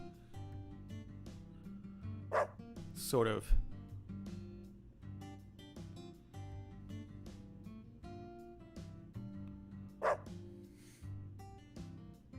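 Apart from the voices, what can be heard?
dog barking in video game Deadly Premonition 2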